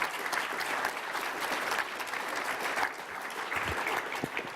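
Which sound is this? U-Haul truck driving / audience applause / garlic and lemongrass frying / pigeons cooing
audience applause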